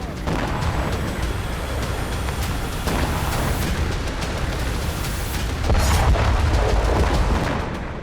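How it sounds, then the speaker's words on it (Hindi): Repeated booms and rumbling blasts from Israeli air strikes on Beirut, Lebanon, rolling one after another at a distance in a steady, dense roar with no clear pauses. "बैरूत में एक के बाद एक धमाके देखे जा सकते हैं"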